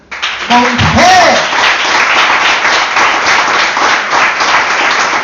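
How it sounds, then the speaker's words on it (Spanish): Church congregation applauding during a Spanish-language sermon, loud, dense clapping from the whole room right after a brief spoken call, continuing steadily throughout. "den un aplauso pero con ganas, con fe"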